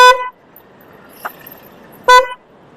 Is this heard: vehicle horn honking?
yes